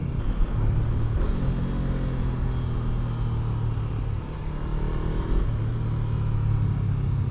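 A Honda CBR500R motorcycle engine idles and runs close by with a steady low rumble, holding an even drone with slight shifts in pitch and no talk.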